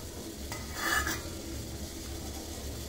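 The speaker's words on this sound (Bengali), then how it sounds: "এভাবে আমি ফেলে ফেলে তারপরে আমি এটা নেড়ে চেড়ে জেলিটা বানিয়ে নিচ্ছি" Olive jelly is stirred in a pot as a faint simmer bubbles underneath, with a spoon scraping and clinking against the metal, briefly louder near the start, then quiet stirring.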